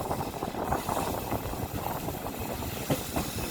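A passenger train pulls into Nilambur station in Kerala after crossing the Kuthirappuzha river, its wheels rumbling and clattering at close range, with a hiss and a sharp clank near the end.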